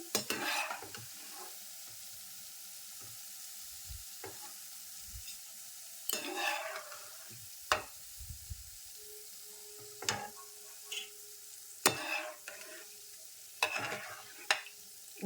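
Small boondi for ladoo fry in oil with a soft background sizzle, broken by intermittent bursts of scraping and stirring against the pan.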